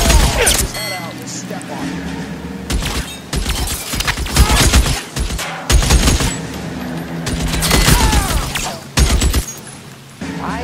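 Shootout gunfire in the video game L.A. Noire, with dense bursts of loud, close shots and rapid volleys that come one after another, mixed with shouted voices.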